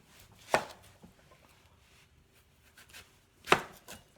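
A knife cuts through a melon in two crisp, distinct strokes about three seconds apart, close and fairly quiet, with soft handling noises in between.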